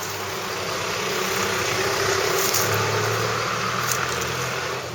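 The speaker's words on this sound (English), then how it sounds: "We're next to a busy street, so we'll have to contend with some traffic noise for a bit." Traffic on a busy street beside an old Japanese cemetery, a continuous loud rumble of car engines passing close, with no break.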